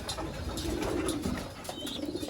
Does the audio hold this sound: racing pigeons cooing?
yes